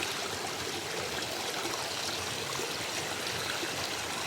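Water flowing steadily in a forest stream, a continuous broadband rush and trickle, close and even throughout with no voices.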